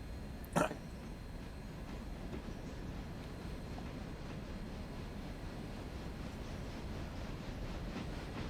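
A steam train in the Railroader video game rolls backward along the track, a steady low rumble and faint clatter continuing evenly throughout, with one brief sharp click near the start.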